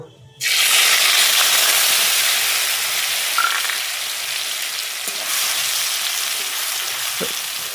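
Blended onion paste dropped into hot oil for a mustard rohu fish curry, a sudden loud burst of sizzling that settles into a steady, close spitting hiss with occasional pops.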